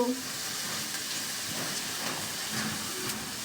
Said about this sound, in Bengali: আলু ভাজি করছি তোমার জন্য।